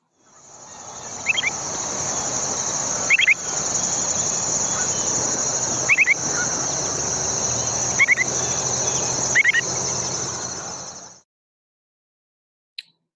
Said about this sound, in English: It is the upland sandpiper.